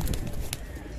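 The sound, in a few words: Lal Ambarsare pigeons cooing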